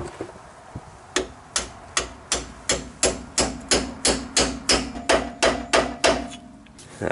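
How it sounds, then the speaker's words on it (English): A hammer strikes a metal shim driver about fifteen times while rebuilding a GM 10-bolt rear end, in a steady, evenly spaced rhythm, each blow sharp, ringing and close. "Get your shim driver in place. Get a big beefy hammer."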